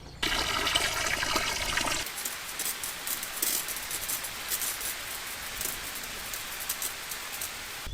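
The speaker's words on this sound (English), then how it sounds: "I'm just going to go to the vegetable garden quickly and dump as much water as I can on it" Water pours heavily onto a vegetable garden on a Portuguese farm, a loud rushing gush for the first two seconds giving way to a softer, steady spatter and trickle of water onto the plants.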